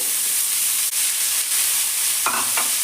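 Star fruit pieces drop into a hot pan of chutney mixture, setting off a steady broadband sizzle with a brief stirring scrape and a short burst of hiss near the end, no voices.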